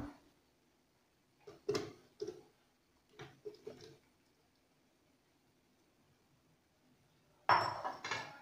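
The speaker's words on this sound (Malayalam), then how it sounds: "ജാറിലേക്ക് നമുക്ക് അരിഞ്ഞു വെച്ച മാങ്ങയുടെ കഷ്ണങ്ങൾ ഇട്ട് കൊടുക്കാം" Several soft thuds and clinks as chopped mango pieces drop into a mixer jar, spaced irregularly, ending with a louder clatter.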